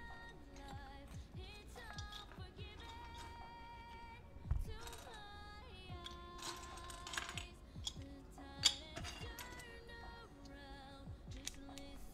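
Typing on a mechanical computer keyboard with many function keys during a keyboard build, heard as a steady run of close, crisp key clicks and clacks with a few louder strikes.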